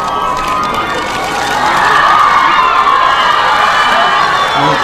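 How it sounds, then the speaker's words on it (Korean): Fans cheer as actor Hyun Bin appears in a khaki military-style jacket and cap on the day he enlists, a loud crowd roar with high shouts that swells and stays dense throughout. "아름다운 남자 현빈 씨의 모습에 팬들 모두 한마음이 되어 환호합니다"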